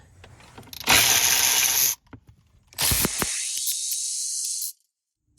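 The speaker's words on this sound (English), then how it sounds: "all we need to do is unbolt the steering column" Ratchet wrench on a Hyundai steering column's bolts, two loud bursts of rapid clicking close by, the second run longer and steadier, with quiet gaps between.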